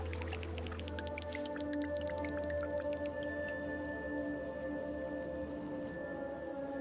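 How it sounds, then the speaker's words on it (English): Water spreading in the video game Terra Nil, a busy run of soft squishy, dripping and bubbling game effects layered over a steady tonal ambient drone, constant and fairly loud with no talk. "Let's just spread some water."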